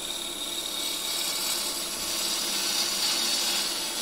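A gouge cuts a thin-walled wood piece turning on a lathe, giving a steady, fairly loud hissing scrape that holds even throughout with no talk.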